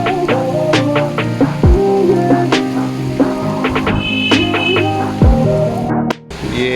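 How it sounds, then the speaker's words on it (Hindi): Rain falling on a village street in the first rain of summer, a dense, close patter of drops hitting surfaces with sharp individual splats, loud and steady. "अभी भी बारिश चल रही है हमारे गांव में"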